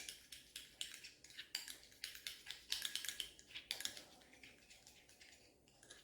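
Aloe vera gel is stirred into a cooked rice flour paste, giving a steady series of quick scraping and tapping strokes of a spoon against a bowl, close and fairly faint, with no talking.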